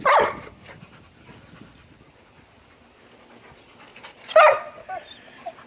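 An excited wolf gives two sharp, close bursts of barking, one at the start and one near the end, with quiet panting in between.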